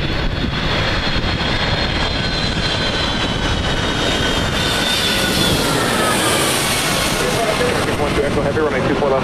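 A jet aircraft takes off at Los Angeles International Airport, a loud continuous engine roar with whining high tones that shift over several seconds, heard up close.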